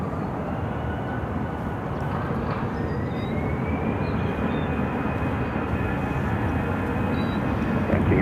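An American Airlines A319 takes off from Phoenix airport with a broad, steady jet roar, moderately distant and rising gradually in pitch as it climbs, with no voices.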